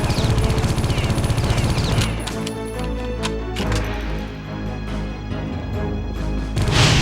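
Sustained automatic gunfire in the shooter game Geist as an enemy is strafed, with a fast, even rhythm of shots at first, then scattered bursts and heavier impacts at a steady, fairly loud level.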